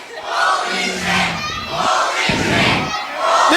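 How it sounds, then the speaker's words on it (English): A wrestling crowd at a live pro-wrestling event chants loudly, with rhythmic swells of massed shouting voices rising and falling over several seconds. "The crowd chanting."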